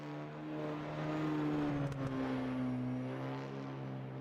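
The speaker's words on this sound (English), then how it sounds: "The cars sound like a weed eater with nitrous." High-revving front-wheel-drive race car engines drone steadily around the track at an SCRA night race at Lanier, with a buzzing, whiny tone, holding a sustained pitch that shifts slightly as they pass at moderate distance.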